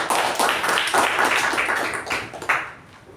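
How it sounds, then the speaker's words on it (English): Applause from a Toastmasters meeting audience, a burst of scattered hand claps that holds steady and then fades out near the end. "Can we have a round of applause for both the speaker and the translator?"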